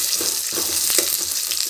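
Curry leaves popping and crackling in hot oil alongside roughly chopped tomatoes with rock salt, a steady close sizzle with scattered sharp pops and light stirring throughout.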